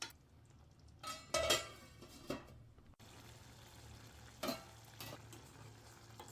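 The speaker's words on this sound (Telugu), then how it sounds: "రొయ్యలు వేసి మూత పెట్టి బాగా మగ్గించుకోవాలి" Prawns cook in a covered pan for curry, giving a faint, quiet sizzle broken by a few clinks and stirring scrapes, with no talk.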